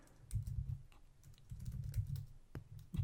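Typing on a computer keyboard while setting text in Photoshop: bursts of quick, close key clicks in uneven runs, with short pauses between groups and no voices.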